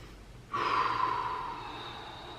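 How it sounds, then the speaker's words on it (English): A single long, heavy exhale during a core and glute workout, starting abruptly and rushing out close and loud before slowly trailing off, with no talking over it. "Keep breathing."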